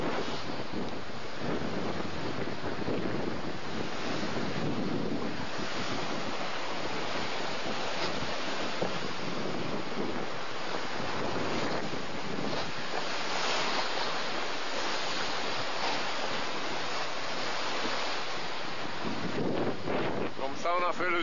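Southern Ocean waves and strong wind around a sailboat on the open Pacific route east, a continuous loud roar of surf and gusting wind buffeting the microphone, with a voice talking at moments.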